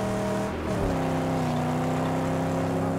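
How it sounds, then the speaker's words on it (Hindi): Car engine in the Mad Max video game revving loudly and steadily, a sustained harmonic drone that shifts pitch as the vehicle accelerates, heard alone without talk. "गाड़ी क्या आवाज करती है"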